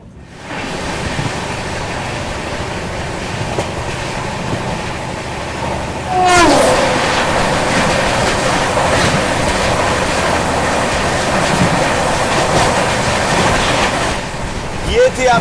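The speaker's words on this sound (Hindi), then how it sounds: "यहाँ देखिए अपनी ट्रेन ओवरटेक कर रही है नेताजी एक्सप्रेस को" A passenger train on the Delhi–Guwahati route to the Northeast runs steadily while overtaking the Netaji Express; continuous loud rumble and broadband rush, swelling a little louder partway through.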